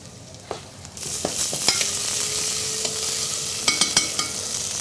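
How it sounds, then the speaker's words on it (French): Shallots and lentils sweating in a pan in a chef's kitchen, producing a continuous soft sizzle punctuated by sharp utensil clicks and scrapes as they are stirred, close and without speech. "On va y mettre les échalotes qu'on avait taillées, apporter un bel arôme aux lentilles, qu'on fait légèrement suer quelques secondes"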